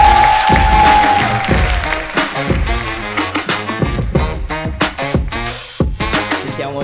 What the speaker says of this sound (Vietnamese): Xin dành một tràng pháo tay cho Trung Coffee